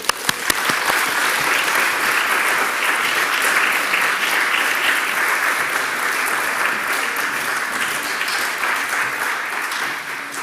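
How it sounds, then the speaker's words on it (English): Sustained audience applause at a celebration of life event, dense and steady from a full room, starting with a few sharp claps and holding at even loudness throughout. "let's give a round of applause for Linda."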